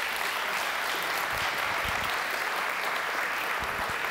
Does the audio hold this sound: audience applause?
yes